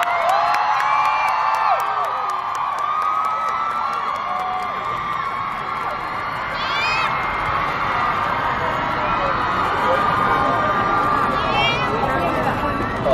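Audience at the BUS "because of you I shine" debut showcase, a steady, dense wall of crowd cheering and shrill whoops that holds for the whole stretch, with screams rising over the clamor.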